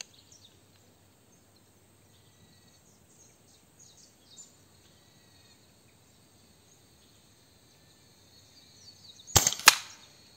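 Single sharp rifle shot through a Fiora 480mm barrel at a 48 m range, a loud sudden crack near the end after a long near-silent stretch with faint birds and insects outdoors.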